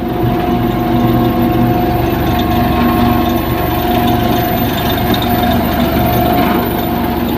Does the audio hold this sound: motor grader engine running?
yes